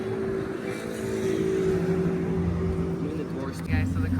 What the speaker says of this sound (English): Guys, so the car started.